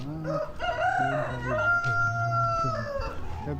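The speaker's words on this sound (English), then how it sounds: "The cock is crowing, crowing" A rooster crows repeatedly, its long drawn-out calls close and loud, with faint clucking and farmyard sounds between them.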